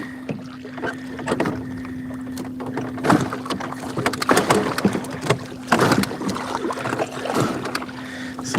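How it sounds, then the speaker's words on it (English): Waves on Lake Nipissing lapping and slapping against the hull of a drifting fishing boat in the wind: irregular close splashes and knocks over a steady low motor hum and gusty wind noise. "Looks like we got some waves here."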